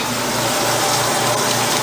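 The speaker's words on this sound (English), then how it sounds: "And now I'm filling up the wash part with rinse with fabric softener in it." Rinse water laced with fabric softener gushes steadily into a washing machine's wash drum, a continuous broadband rush of filling water heard up close and alone.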